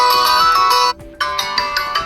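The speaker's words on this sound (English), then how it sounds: "We can see that this ringtone applied successfully" A POCO C40 phone plays a bright, chiming notification ringtone loudly up close, with a brief pause in the middle before the melody resumes.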